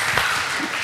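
Brief audience applause during a talk on disinformation, a short wash of steady clapping lasting under a second.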